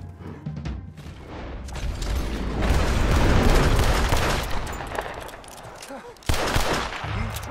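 Gunfire in the video game Red Dead Redemption 2: a sustained, loud barrage of shots and mechanical clatter that swells in the middle, then a sharp burst near the end, with brief voices in the game.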